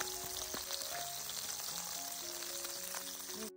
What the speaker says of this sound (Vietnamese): chiên thêm mấy con cá nữa